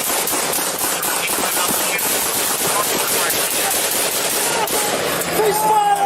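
Police exchange gunfire in a shootout, a loud, dense barrage of rapid shots rattling without pause, with a voice shouting near the end.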